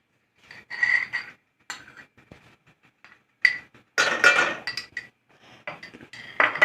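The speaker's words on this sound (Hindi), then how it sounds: "दूसरी पतीली ले लीजिए। इसमें आधा कप घी डालें।" A metal cooking pot clinks and clatters in short, separate knocks as half a cup of ghee goes in, close up and fairly loud, with gaps of quiet between the knocks.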